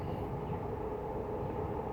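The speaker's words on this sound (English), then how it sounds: "Metro Vancouver SkyTrain, the train that you're about to hear in 2 seconds" A Metro Vancouver SkyTrain rumbles past steadily with a continuous low roar and rolling wheel noise, loud and close, with no voices.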